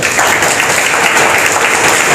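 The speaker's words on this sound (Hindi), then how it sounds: "अब आपके सामने तालियों के साथ स्वागत कीजिए" A packed audience at a book launch event claps steadily to welcome a speaker, a dense, loud wash of applause that fills the whole stretch with no voices over it.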